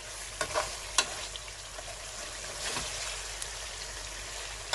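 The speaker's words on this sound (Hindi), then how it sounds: "चिकन के अंदर मिक्स करेंगे और 3 से 4 मिनट तक भूनेंगे" Chicken karahi stir-frying in a pan, a soft continuous sizzle with intermittent clacks and scrapes of the spoon stirring, close and moderately quiet.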